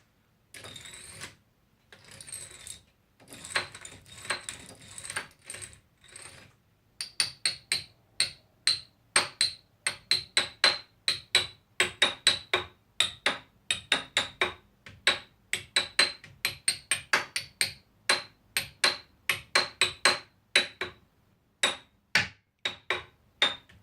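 Bright, pitched tapping on a homemade xylophone, struck with a hairbrush; a brief, irregular run, then many evenly spaced ringing strikes up close.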